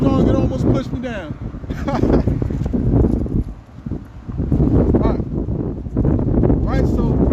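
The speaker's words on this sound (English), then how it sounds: "Oh, that wind's so strong it almost pushed me down." Powerful wind strong enough to nearly push a person over, blowing in loud buffeting gusts outdoors at a camp, dipping briefly midway, with someone talking throughout.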